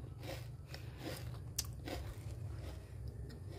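Close-up biting and chewing of crunchy kuih karas, a series of crisp crunches and one sharp bite over a steady low background hum, with no talking.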